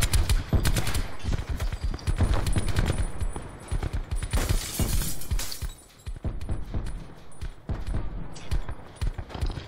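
Heavy gunfire fills a Call of Duty Black Ops 4 Blackout squads match, dense rapid bursts and shots crackling almost continuously, loud and close, thinning slightly toward the end.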